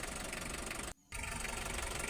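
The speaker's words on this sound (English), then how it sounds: "I'm going to let the engine run for some time" Diesel engine idling steadily during a check for injector washer leaks, a constant low rumble with a brief dropout near one second before the even running resumes.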